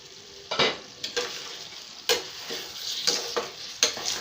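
Mutton cooked with yogurt is stirred as it fries in a wok, giving a continuous soft sizzle broken by several sharp scraping strokes of the spoon against the pan, close and fairly quiet.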